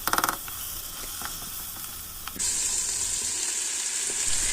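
Tomato paste, bulgur and lentils sizzle in a pan as they are stirred, a soft crackle that jumps to a steady, louder hiss partway through, with faint scraping taps of the spoon.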